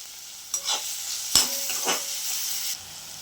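Green chillies and onions fry in a pan with a steady bright sizzle, broken by a few sharp spatula scrapes and stirs, close and alone without talk.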